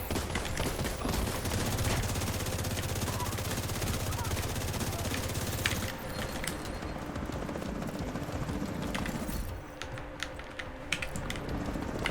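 Rapid automatic gunfire bursts from a The Division 2 match over the steady clatter of a computer keyboard, with a voice speaking in places.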